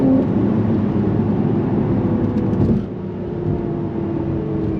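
Loud, continuous engine roar from a 2020 Mercedes C43 AMG accelerating at full turbo boost, heard close up; the pitch holds steady, then the sound drops off sharply near the end, as at a gear change or lift-off.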